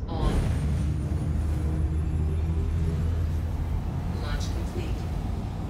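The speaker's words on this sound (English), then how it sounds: "Engine on." Spaceship engine powering up in the Star Citizen game, a steady loud low rumble with a faint high whine running through it, continuous for several seconds.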